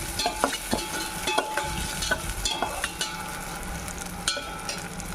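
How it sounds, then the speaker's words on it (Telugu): Food frying in a pan with a continuous hiss, punctuated by frequent rhythmic scrapes and knocks of a spoon stirring against the pan, close and moderately loud, with no one speaking. "బాగా ఫ్రై చేసుకుందాం వాటిని"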